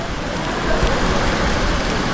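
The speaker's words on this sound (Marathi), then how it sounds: "तर चला आता पाऊस पण मित्रांनो बराच पडतो आहे बघा" Heavy monsoon rain falls steadily at a Konkan Railway station while passengers wait for the Mandovi Express, a dense, even hiss of rain close by with no clear voices.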